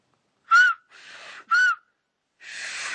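Silbo Gomero, the whistled language of La Gomera, is whistled in two short, clear, rising-and-falling notes. Breathy, airy hisses fall between and after them, with no talking.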